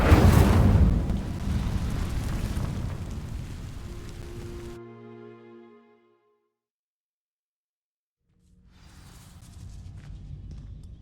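Incendio fire spell catching dry vines in Hogwarts Legacy, a loud rushing burst of flame and crackle that fades over several seconds into silence, then a low ambient rumble returns.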